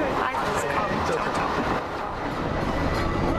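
A passenger train on a July 2010 trip through Italy runs along the rails, giving a steady, dense rumble and rattle that fills the whole stretch without letup.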